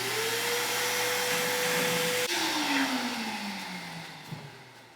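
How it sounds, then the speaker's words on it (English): Shop vacuum running steadily during work on a Toyota FJ40 fuel return line, a loud continuous motor whine that dips and slowly winds down in pitch partway through. "turn the vacuum on."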